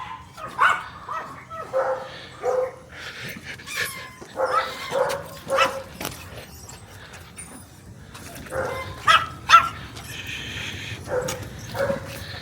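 Dogs at a home give scattered barks, yips and whimpers over about twelve seconds, fairly close and irregular, with a few quieter gaps.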